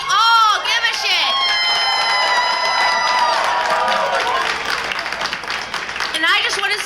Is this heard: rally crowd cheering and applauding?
yes